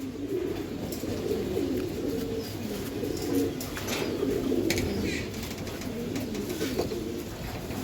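Giribaz pigeons, a pair of tournament flying birds, coo in low, rolling throaty phrases close by, steady throughout with faint rustling and no talking.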